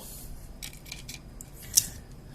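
Plastic cover of an electric bicycle battery being pried open, a few faint scraping clicks followed by one sharp snap as it gives way, close and quiet.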